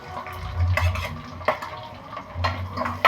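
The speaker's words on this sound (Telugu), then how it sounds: "పచ్చిమిరకాయ ఉల్లిగడ్డ వేస్తున్నానండి" Green chili and onion tipped into a frying pan and stirred, with a spatula scraping and clinking against the metal over a low sizzle, in a few close bursts.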